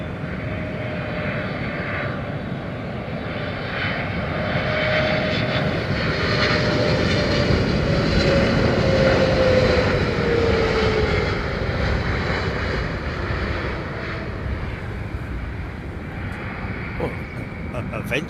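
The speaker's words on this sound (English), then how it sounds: "Moments before touchdown." An airliner coming in to land at London Heathrow, its engine roar swelling steadily over several seconds with a falling whine, then easing as it passes, heard under faint talk.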